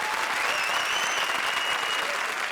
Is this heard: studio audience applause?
yes